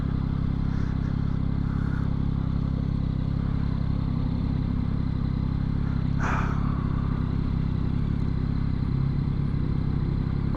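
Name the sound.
2022 Yamaha XSR900 motorcycle being ridden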